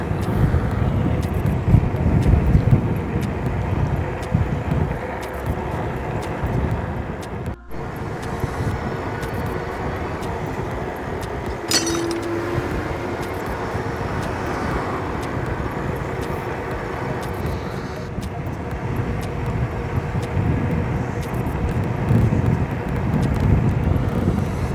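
An ACTBEST Cozy 1800W electric bike rides at a little over 20 mph in 4th gear, heard as continuous steady wind and road rush with a brief dropout midway.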